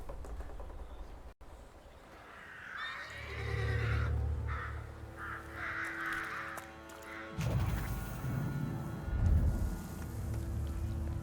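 A horse neighs and whinnies in the video game The Thaumaturge, a fairly loud call rising over ambient game sound, followed by heavier rumbling noise in the second half.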